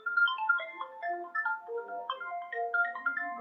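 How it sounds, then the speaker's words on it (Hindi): An incoming WhatsApp call rings on a phone, a bright electronic ringtone of quick stepping melodic tones in a looping phrase, clear and close with no talking over it. "कौन मेरे को व्हाट्सएप में फोन करता है यार"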